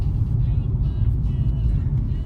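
A Chevy SS sedan driving on the road, heard from inside as a steady, loud low engine and road rumble, with no distinct passing or revving.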